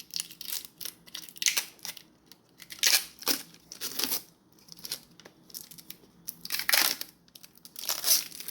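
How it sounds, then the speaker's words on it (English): Protective plastic film being peeled off a Zotac Gaming RTX 5070 graphics card, a series of close crinkling, tearing strips in irregular bursts, quiet and alone. "peeling this off is definitely satisfactory"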